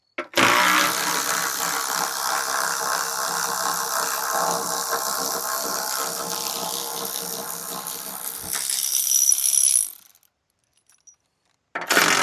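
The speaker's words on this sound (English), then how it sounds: "I decided I'm going to go ahead and take the rear bumper off too." Bolts come out of the rear bumper of a Chinese diesel mini excavator with a loud, steady whirring power tool that runs for several seconds, rises slightly, then stops, followed by a brief burst of noise.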